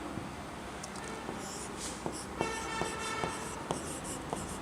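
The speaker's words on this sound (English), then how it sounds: "Now let's write once again." Chalk or marker writing on a board during a chemistry lesson, a steady scratchy scrawl with small taps between strokes, fairly close and alone without talk.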